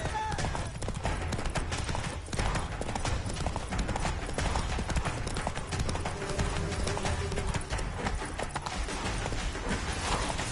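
Horse Roach galloping in The Witcher 3, a steady fast clip-clop of hooves running throughout, mixed with dense game ambience and effects.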